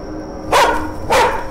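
A dog barks twice, sharp and close, with a short pause between the barks.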